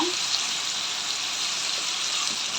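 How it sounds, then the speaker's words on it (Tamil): Tomatoes with salt and turmeric sauté in a pan for meen kulambu, a South Indian fish curry, giving off a steady, close, hissing sizzle that runs evenly throughout. "இந்த தக்காளி நல்லா வதங்கட்டும்"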